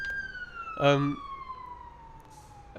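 A distant fire engine siren wails in a long, slowly falling tone, with a brief louder horn-like burst near the start.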